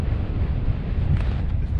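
Strong, steady wind buffets a mountain camp pitched at 3750 ft in blizzard conditions, a continuous loud low roar with gusty swells and no voices.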